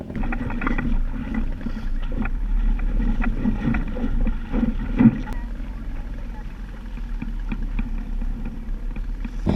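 A sailboat moves under foresail alone after gearbox failure, with low rumbling water and wind noise, occasional creaks and knocks of rigging and hull close by.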